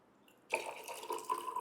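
Water trickling and splashing into a container, poured to mix with jamun-fruit vodka, starting abruptly and running steadily for about a second, fairly close and moderately loud.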